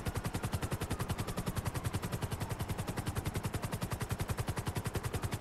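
Rapid automatic gunfire in Grand Theft Auto V rattles nonstop in an even, fast rhythm, a dense burst of sharp repeated shots with a synthetic, game-like quality.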